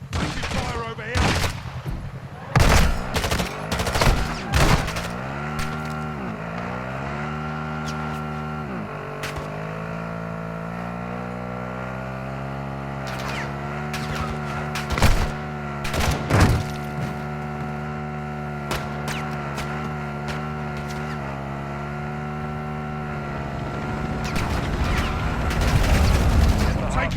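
Call of Duty gunfire: sharp shots and short bursts crack in clusters over a steady low engine-like drone, loud at the start, with another flurry midway and more near the end.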